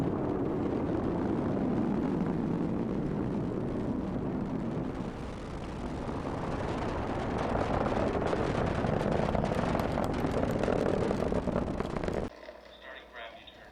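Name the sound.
Falcon 9 rocket liftoff roar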